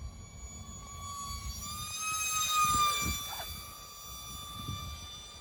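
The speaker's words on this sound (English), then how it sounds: "A very noisy little EDF" A micro RC E-flite UMX F-16 electric ducted fan jet whines past with a high, piercing tone that rises and falls as it flies by, fairly distant.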